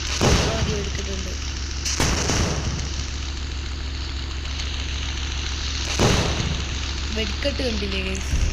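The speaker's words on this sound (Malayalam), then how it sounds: "വെടിക്കെട്ട് കണ്ടില്ലേ ഗൈസ്?" Explosions and gunfire in the video game GTA V, a few loud booming bursts spaced several seconds apart over a steady low background hum, with a person talking between them.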